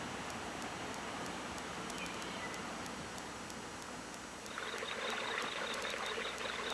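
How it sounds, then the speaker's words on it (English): Water trickles over flat, smooth rocks in a desert canyon stream, a steady soft wash of running water that swells louder and brighter in the last couple of seconds, with no voices. "a place where water trickles over flat, smooth rocks"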